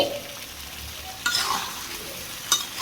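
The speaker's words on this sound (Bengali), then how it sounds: "এখন এটা একদম লো হিটে কষানো।" Fried potatoes and eggs in masala are stirred in a pan over low heat, soft steady sizzling with a couple of brief louder scrapes of the spoon.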